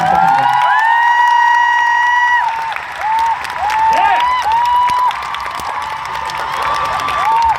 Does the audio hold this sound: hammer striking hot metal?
no